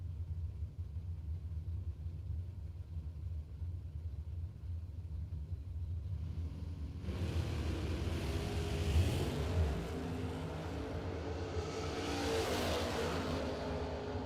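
A Chevy Nova and an extended-cab S10 truck drag racing with crater power on the tower side: a steady low engine rumble builds into a louder, fuller roar partway through, then holds strong.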